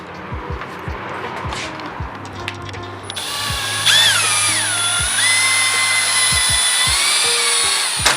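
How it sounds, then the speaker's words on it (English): A power drill bores into a wooden crate being made into a shop stool, a rising high whine that starts partway through and holds loud and steady, after a few knocks and taps of handling. "You gotta take your drill bit."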